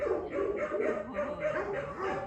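A pet dog gives a run of short, high whimpering yips and soft barks in quick succession, close and moderately loud, during a leash-training session.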